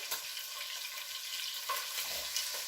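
Chicken pieces sizzle steadily in olive oil in a pan, a continuous close hiss with a few scraping stirs as the larger pieces are pressed down; no talking.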